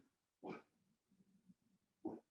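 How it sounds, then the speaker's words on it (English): Two short, sharp barks from an 8-month-old puppy, spaced well apart, with faint whimpering sounds between them in a quiet room. "You might even hear my puppy, my 8-month-old, barking."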